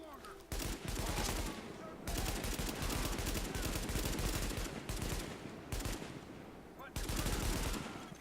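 Bursts of automatic AK rifle fire in the shooter game Tom Clancy's The Division, loud and close, coming in several long rapid-fire volleys with short gaps between them.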